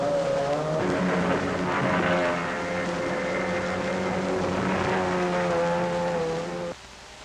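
Mercury outboard racing runabout boats from 1957 roar at full throttle with a loud, steady, buzzing engine drone and rising harmonic whine that holds for several seconds, then cuts down sharply near the end.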